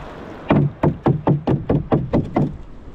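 About ten sharp, hollow knocks in a quick, fairly even rhythm, wood struck hard against a fishing boat hull to drive fish into a net, loud and close.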